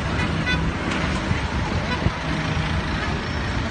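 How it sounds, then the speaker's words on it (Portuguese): Dense city traffic in Alexandria with engines rumbling and car horns sounding in short bursts, a steady loud roadway din throughout. "Aqui eles adoram a buzina, como vocês podem ver."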